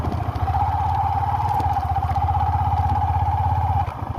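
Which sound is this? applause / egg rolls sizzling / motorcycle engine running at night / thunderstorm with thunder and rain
motorcycle engine running at night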